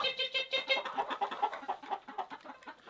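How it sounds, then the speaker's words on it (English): Chickens cluck in quick, overlapping bursts close by while being fed by hand at a cold winter coop, a busy rhythmic chatter with no talk over it. "So let's feed the chickens."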